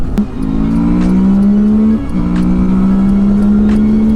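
A Suzuki DL 650 V-Strom touring motorcycle engine drones loudly and steadily up close, its pitch rising through the gears with a brief dip as it shifts.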